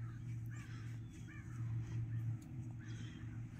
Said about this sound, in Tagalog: Ginising tayo ng mga ibon.